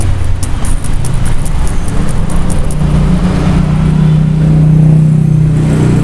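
Electric motor fitted with a standard bearing spinning steadily during a spin test, a loud continuous whirring hum with a low tone that rises slightly and holds near the end.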